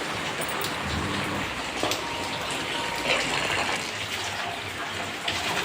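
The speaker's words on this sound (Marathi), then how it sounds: "7:30 वाजले आणि पाऊस आहे भरपूर." Heavy rain falls outside a house, a steady rushing patter with occasional louder splashes, moderately close and continuous without talk.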